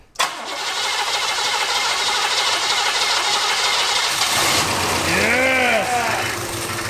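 An abandoned Cadillac limousine engine cranks briefly and fires, then settles into a steady, loud, close idle, with a faint whine rising and falling near the end.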